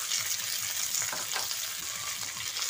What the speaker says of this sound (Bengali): আলু একসঙ্গে ভালো করে একটু ভেজে নিচ্ছি।